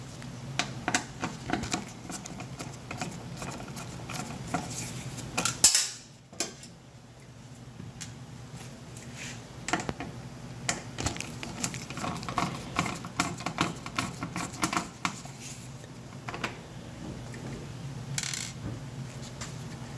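Clicks and small metallic rattles as a knob is pulled off an electric stove control panel and Phillips screws are backed out, close and intermittent over a steady low room hum, with one sharper knock partway through.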